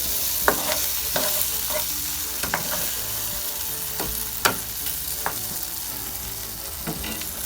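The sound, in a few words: sausage cooking in a pan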